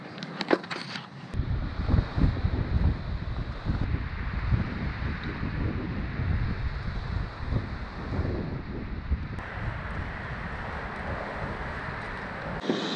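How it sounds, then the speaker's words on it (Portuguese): Steady wind at a kitesurfing spot buffets the microphone for the whole stretch, a broad rushing roar with gusty swells, probably mixed with surf by the water, and no one talking. "Aparentemente hoje está um pouco mais fraco o vento."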